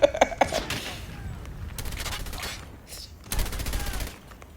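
Gunfire in Call of Duty Mobile, a few sharp shots at the start, then scattered bursts amid game noise, with a player talking briefly.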